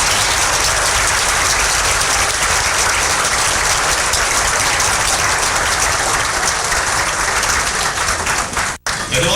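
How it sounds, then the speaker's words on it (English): A large audience at a bakery's 40th anniversary dinner applauds with dense, steady clapping that fills the room, holding at full strength and dipping briefly near the end. "I'd like you to give me a round of applause."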